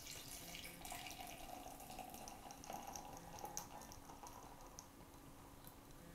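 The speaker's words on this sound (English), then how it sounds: "let's open this bad boy up and pour it into my nice big beer glass" A canned energy drink pours into a large beer glass with a quiet, continuous fizzing and splashing trickle that softens toward the end, close and faint, with no talking.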